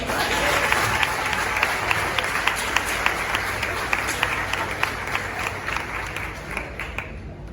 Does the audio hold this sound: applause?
yes